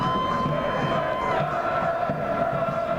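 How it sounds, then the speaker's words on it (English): A stadium crowd at a university rugby match between Loughborough and Nottingham Trent roars and cheers continuously, a dense wash of voices and shouts holding steady from start to finish. "Well, the crowd respond, and rightly so."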